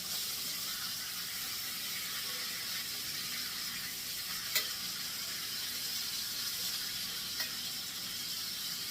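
Chicken thighs sizzle in a crowded pan with vegetables: a steady, quiet frying hiss runs throughout, with a couple of faint clinks near the middle.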